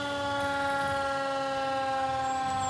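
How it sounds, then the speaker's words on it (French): Fire truck siren wailing steadily at a Christmas parade in Lachute, a sustained layered tone held loud and close throughout with no talk over it. "le dernier camion de pompiers de la ville de la Chute"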